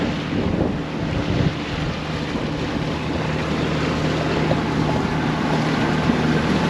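A sailboat motors along the Florida Keys into a light headwind, with a steady engine and hull drone under wind buffeting the microphone and the wash of water against the boat.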